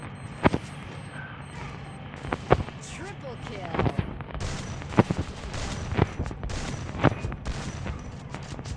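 Repeated sharp blasts boom out at irregular intervals, about one every second or so, over a constant background rumble and murmur.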